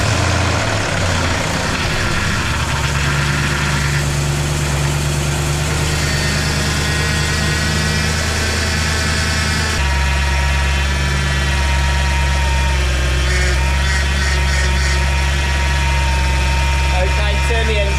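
A BMW E90 M3 engine runs at a steady idle, a loud, close, deep drone with a tonal hum that shifts once midway and then holds steady.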